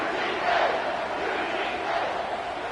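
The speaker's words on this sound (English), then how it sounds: "you just know the home crowd is loving this" A home crowd roars at an Oklahoma vs Georgia college football game, a broad sustained wash of cheering that swells slightly early on and stays loud throughout.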